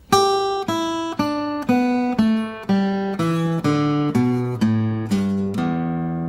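An acoustic guitar plays a slow descending scale, about a dozen evenly spaced single notes, each plucked cleanly and ringing briefly before the next.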